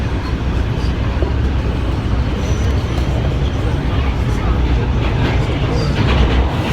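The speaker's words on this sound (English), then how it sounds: "So we're finally on the subway." New York subway car in motion, a loud steady rumble and rattle of wheels on track from inside the carriage, with faint squeals and passengers talking under the noise.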